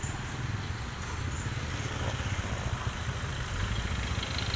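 Street food vendor's motorcycle idling at a roadside stall selling sempol cilok ayam in Indonesia; a low, steady engine rumble runs continuously and close, with faint street noise around it.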